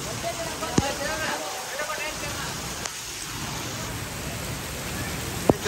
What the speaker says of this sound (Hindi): बारिश बड़ी तेज हो गई